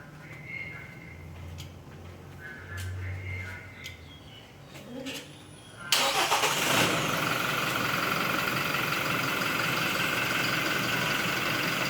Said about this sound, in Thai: แล้วก็ไปสตาร์ทรถครับ